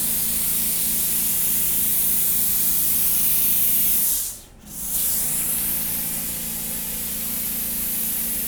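A continuous hissing spray from a Clorox 360 disinfectant sprayer machine spraying chairs, loud and close, briefly cut off midway before resuming steadily.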